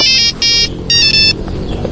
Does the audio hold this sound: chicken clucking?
no